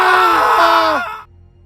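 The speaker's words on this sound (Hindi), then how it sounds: "विकी और गुलशन वहीं पर चीख उठा" A piercing scream in a Hindi horror audio drama, loud and sustained for about a second before its pitch slides downward and breaks off into near silence.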